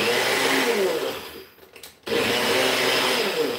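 A Magic Bullet blender grinds ingredients into powder with a loud, close whir. The whir cuts out briefly partway through and then restarts at full power, with no one talking.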